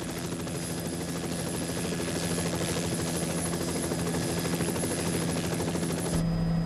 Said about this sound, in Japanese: 今回はヘリコプターで上空から接近することにした。